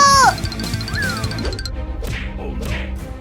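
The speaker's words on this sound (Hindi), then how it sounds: "कैट्स की आवाज आ रही है, लगता है वो किसी मुसीबत में है" Cartoon cats meow in distress, a rising and falling yowl at the start followed by a slide, set against a busy musical backing with bangs and crashes.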